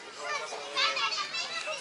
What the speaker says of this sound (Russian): Конечно же, детская площадка.